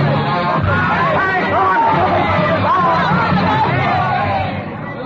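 Staged radio-drama street crowd of ragged revolutionaries in the Rue Saint-Nicaise, Paris, a loud, dense babble of shouting voices that surges continuously and then trails off at the end.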